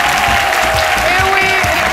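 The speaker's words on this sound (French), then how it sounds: "Et avec ces mêmes applaudissements, nous allons recevoir tout de suite Lynn Jabert." Dense, steady applause from a television studio audience on a French midday show, loud and continuous for the whole moment with no pauses.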